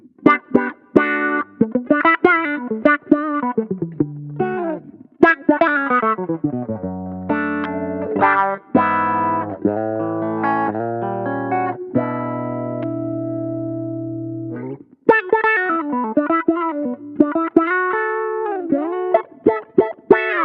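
An electric guitar played through a Line 6 Helix preset with a filter effect rings out alone in bright, sweeping melodic phrases, including a sustained held chord before the lines resume.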